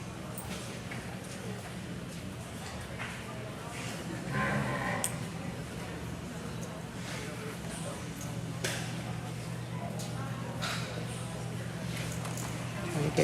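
Cattle at the 2021 ABBA New Year's Bash livestock show, gray female calf division, shift about in an arena with a low steady hum and scattered thuds and clatter, amid a murmur of people talking.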